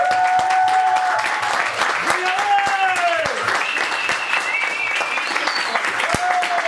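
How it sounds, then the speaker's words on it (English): A stand-up comedy audience applauds and cheers steadily throughout, loud and dense, with a comedian's voice faintly over the clapping. "come on, clap. Clap for your friends."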